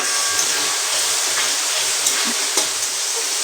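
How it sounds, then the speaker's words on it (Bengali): Chopped tomato goes into a pan of sizzling spice masala with turmeric and chilli powder, giving a loud, steady hiss with a few brief stirring knocks and no talking. "গাইস টমেটো একটা কুচি করে এর মধ্যে দিয়ে দেব।"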